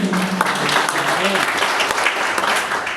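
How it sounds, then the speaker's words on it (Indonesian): A church congregation at a Sunday service claps continuously and loudly throughout, with a few voices and cheers mingled into the applause. "Berikan tepuk tangan yang mulia."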